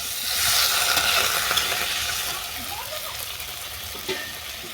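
Soybean curry frying in a pan, a loud broad sizzle that swells early and then gradually quiets, with a few soft stirring knocks and a bubbling, watery texture.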